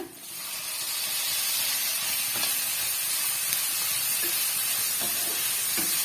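Large, ripe tomatoes chopped into small pieces sauté in a pan, giving off a loud, steady hiss and sizzle with a few faint clicks. No one speaks.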